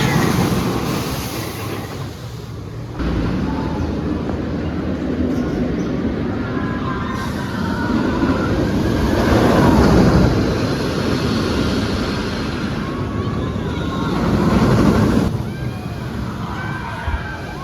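The Jolly Rancher Remix roller coaster at Hersheypark rumbles along its track with a loud, continuous roar of wheels and wind that surges and eases as the cars move.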